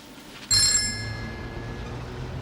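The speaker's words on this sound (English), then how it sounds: "It's ringing." A telephone bell in a 1985 domestic setting gives a single sharp ring that starts abruptly and then fades slowly. It sounds close and loud, with no talking.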